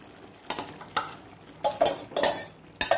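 Spoonfuls of boiled, softened toor dal dropped and stirred into a pot of cooked brinjal and tomato, giving a few distinct metal clanks and scrapes with soft wet thuds between them, close and fairly loud, no talking.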